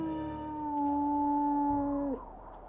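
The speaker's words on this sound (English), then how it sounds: "let's go ahead and do a howl" A single sustained wolf howl from a video game holds one steady, clear tone for about two seconds, then breaks off abruptly and falls silent.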